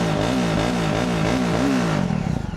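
A second-hand motorcycle with 11,000 km on it idles close by, its engine note rising and falling in several quick rev swells before settling into a rougher, pulsing idle. No one speaks.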